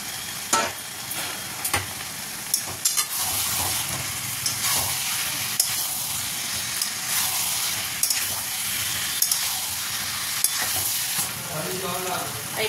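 Potatoes frying in a spice masala, a continuous close sizzle with repeated scrapes and taps of a spoon stirring the pan, no speech.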